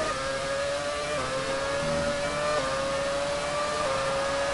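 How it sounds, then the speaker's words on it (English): A Formula 1 car engine from the F1 2017 racing game drones loud and continuous, its high steady whine stepping up through gear changes at regular intervals with no talk over it. "This just sounds a lot like the 2006 engines"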